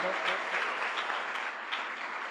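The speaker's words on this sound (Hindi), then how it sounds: "एक बार जोरदार तालियां बजाकर" An audience at a Devshayani Ekadashi devotional jagran claps steadily in a dense, continuous wash of applause that holds at an even level throughout.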